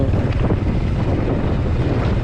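Steady, rushing wind buffets the microphone throughout at Pantabangan Dam in Nueva Ecija, a constant low roar with no voices.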